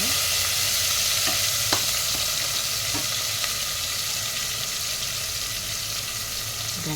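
Green chillies frying in a pan for a mutton and drumstick curry, giving a steady close sizzle with a few light stirring taps.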